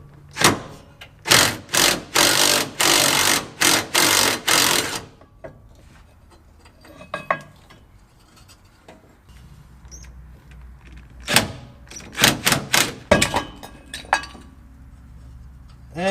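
An air impact gun rattles off drive shaft bolts on a Powerstroke truck during transmission removal, firing in several short bursts near the start, then again in a cluster of quick hits after a quieter stretch of shop clatter.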